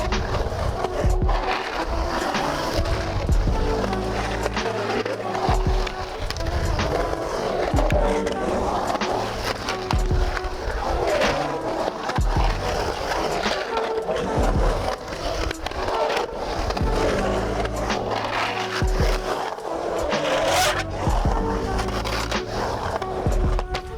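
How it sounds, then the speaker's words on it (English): Skateboard wheels roar continuously as a rider carves fast around a bowl, with scraping grinds on the coping layered over the rolling noise and voices talking in the background, loud and close throughout. "You just ride fast, carve, grind, and keep riding."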